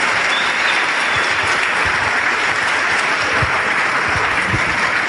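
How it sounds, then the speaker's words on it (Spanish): Sustained audience applause fills the whole stretch, dense and even with no pauses, at a business seminar presentation. "Dale un aplauso porque eso es impresionante"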